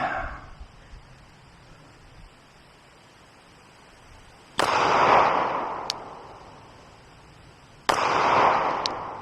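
Glock pistol fired at a shooting range: two sharp, loud gunshots about three seconds apart, each snapping hard and then decaying into a broad rushing echo, with a faint metallic ping after each shot.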